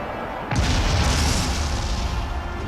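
A thrown mine explodes in a sci-fi shooter mission, one sudden loud boom that swells into a long, rumbling roar lasting a couple of seconds.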